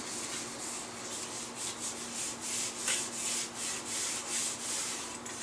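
Bare hands rub a finish coat into the wooden stock of a gun, a steady dry rhythmic swishing of skin on wood, close and moderately loud, repeating in even strokes with no talking.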